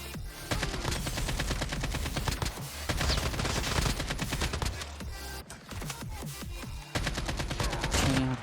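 Dense gunfire in a battle royale video game, rapid bursts of shots in long volleys nearly filling the stretch, loud and close, with only brief gaps between strings of fire.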